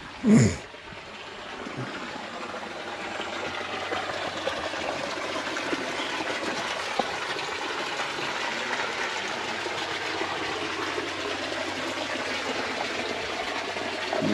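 Water gushing up and flowing out of a spring-fed pond at the Shri Guli Guli Shankareshwara temple, a steady broadband rush that carries on evenly throughout, with one short thump right at the start.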